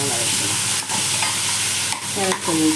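Onions and green chillies sizzle steadily in hot oil, with a few scraping stirs of a spoon against the pan, no voices.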